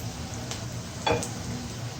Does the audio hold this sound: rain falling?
no